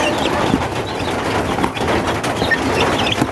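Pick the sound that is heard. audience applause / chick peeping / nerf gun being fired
chick peeping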